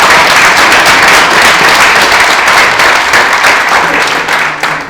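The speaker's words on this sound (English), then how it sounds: "Round of applause." Loud, dense applause fills an award ceremony hall, a sustained wash of many hands clapping close by that holds steady and tapers slightly at the end.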